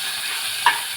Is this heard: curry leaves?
yes